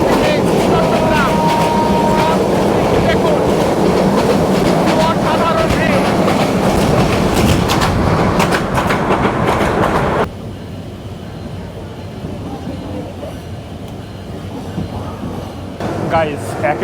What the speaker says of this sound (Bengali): আমরা ভ্রমণ করতেছি বাংলাদেশের সবচেয়ে বিরাট শহরে সোনার বাংলা এক্সপ্রেস ট্রেনে করে ঢাকা থেকে চট্টগ্রাম